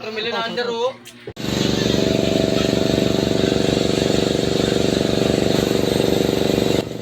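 After a moment of talking, a road crew's generator starts and runs steadily at a constant pulsing drone, loud and close.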